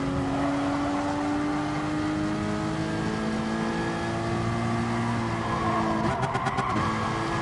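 A Porsche race car engine in Gran Turismo drones steadily at high revs, its tone slowly climbing through a long pull before a brief stutter of gear shifts near the end, loud and continuous with no talk.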